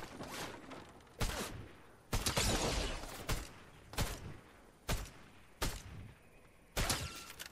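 Gunshots in the video game Fortnite crack out in sharp, separate bursts, about eight loud shots spaced irregularly over several seconds with quiet gaps between them.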